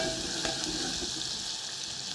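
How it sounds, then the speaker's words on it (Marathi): Half a spoon of ginger-garlic paste frying and being stirred in a hot pan for misal, giving a steady, close-up sizzle that runs unbroken throughout. "थोडासा अद्रक लसूणचा पेस्ट अर्धा चमचा घालून घ्यायचा. घालून हलवून घ्यायचं."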